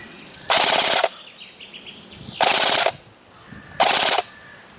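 Three rapid full-auto bursts from a Cyma CM.060 airsoft gun firing 1000 to 1200 rounds per minute, each about half a second, with faint bird chirps in the quiet gaps between.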